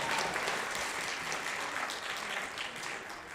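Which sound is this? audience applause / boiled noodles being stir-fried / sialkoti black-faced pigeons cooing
audience applause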